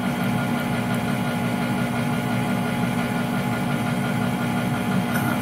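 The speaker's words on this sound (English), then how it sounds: "so the lower auger now is spinning." Englander 25 PDV pellet stove with its lower auger motor running, a steady low mechanical hum and drone with constant vibration, continuous and fairly close, no talk.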